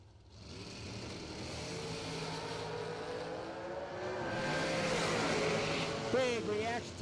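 Drag race car with a 582 cubic inch Chevrolet engine on a 2020 M&M chassis, a loud sustained engine roar building toward launch with a rising rev near the end, under a busy crowd and track backdrop.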